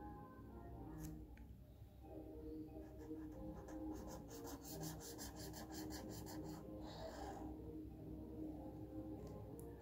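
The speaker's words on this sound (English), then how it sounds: "open the orange sketch and draw a line." An orange sketch pen scratches a line across paper in soft, close rubbing strokes, quiet and continuous with a few brief tip squeaks.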